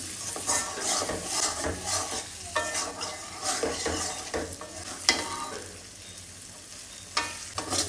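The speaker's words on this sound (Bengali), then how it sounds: "চিংড়া মাছটা মশলার সাথে ভালো করে কষিয়ে মিশিয়ে" Shrimp stir-fried with spices in a pan, a continuous sizzle with repeated scraping and stirring strokes, close and moderately loud, easing off toward the end.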